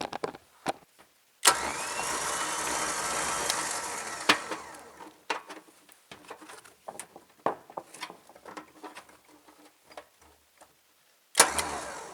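A Harbor Freight 12k electric winch mounted on a trailer spools in cable with a steady motor whine that starts abruptly, runs for a few seconds, then fades into intermittent clicks and clunks before whirring briefly again at the end.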